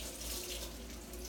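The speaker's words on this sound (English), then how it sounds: "rinse off the" Tap water runs steadily into a kitchen sink to rinse fresh cilantro, a continuous quiet hiss and splash with no talking.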